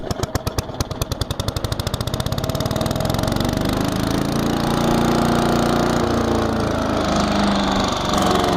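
A Troy Bilt chipper shredder's engine starts with a rapid pulsing chug that speeds up, then settles into a loud, steady running roar up close, with the heavy hammer mill mechanism spinning.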